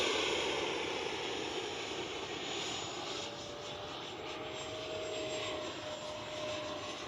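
An X-Fly Sirius 80mm RC sport jet flies overhead with a continuous turbine roar and a thin high whine, holding a fairly even level throughout with no talk.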